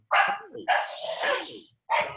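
A household dog barks in loud, close bursts as it comes back inside the house, with a few short barks, a longer run of barking and a final burst after a brief pause, mixed with some whining.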